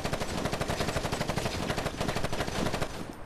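A minigun fires in the video game Gangstar Vegas, a loud, rapid, unbroken burst of rattling shots at an even rhythm that cuts off just before the end.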